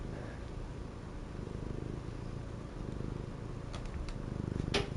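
A steady low rumbling purr from a real cat and an electronic purring toy together runs continuously, close and even, with a few brief clicks near the end.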